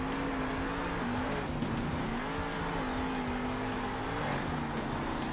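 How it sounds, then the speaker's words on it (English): Monster trucks race for laps in the video game Monster Jam Steel Titans 2, including Junkyard Dog against Alien Invasion. A loud, continuous engine drone rises and falls in pitch under the race, with brief tire squeals and no speech. "Remember, it's the first monster truck to complete 3 laps."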